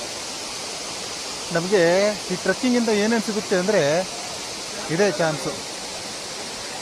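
A waterfall on the Nethravathi Peak trek in the Kudremukh Western Ghats rushes in a constant, loud, broadband roar, with someone speaking over it for several seconds.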